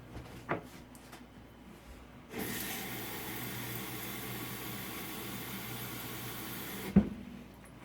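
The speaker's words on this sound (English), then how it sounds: "Going in with the water." After a few soft clicks, a tap opens and water runs steadily with a hissing splash for several seconds, ending with a sharp knock.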